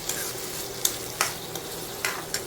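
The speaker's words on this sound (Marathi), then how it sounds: "मी आता बटाटा मिक्स करून घेते." Potatoes being stirred into fried chillies in a pan for sabudana khichdi, with a steady close sizzle and a few sharp scraping clicks of the spoon against the pan, no voices.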